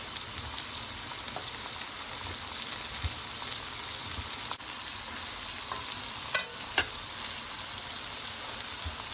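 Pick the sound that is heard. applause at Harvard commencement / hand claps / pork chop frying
pork chop frying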